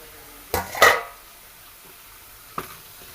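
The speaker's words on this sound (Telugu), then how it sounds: "ఒకసారి కలుపుకుందామండి" A spoon stirs tomato curry in a pot, giving two quick close scrapes and clinks, then a pause and one more brief knock against the pot, with no talking.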